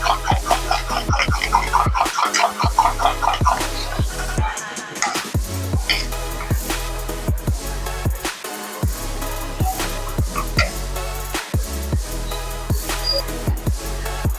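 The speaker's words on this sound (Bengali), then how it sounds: "তলায় যাতে জমে না যায় ভালো করে থেকে নেড়ে নিচ্ছি।" A paneer dish being stirred in a pan for Paneer Dopaati, with steady scraping and clinking strokes repeating in a close, busy rhythm throughout.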